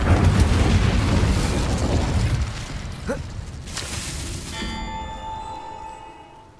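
Incendio fire spell cast in Hogwarts Legacy, a loud whooshing burst that fades over several seconds, followed by a softer sparkle and a tonal chime-like ring at the end, with no talking.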